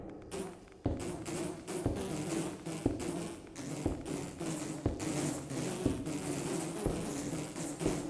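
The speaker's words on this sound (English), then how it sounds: "More adult radioactive bees." Radioactive bees swarm in a crafting video game, giving a busy buzzing drone broken by regular sharp taps about once a second, fairly loud and constant, with no voices.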